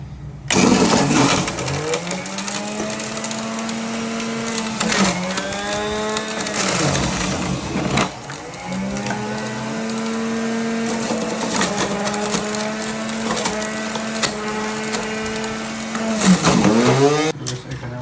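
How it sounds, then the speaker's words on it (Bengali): A blender whirs through carrot juice in loud motor runs that rise in pitch, dip and surge again over several cycles, with brief pauses between bursts and no talking. "এখন আমি ব্লেন্ডারে জুস করে নিব, ক্যারেট জুস"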